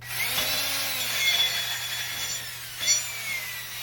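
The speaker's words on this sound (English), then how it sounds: "I'm just going to hit it with a wire wheel, clean it up before we put the new rotor on." Wire wheel grinds oxidation off a Jeep JKU front wheel hub with a continuous, close, harsh abrasive whir, steady in level with a brief louder scrape near the end, alongside a low motor hum.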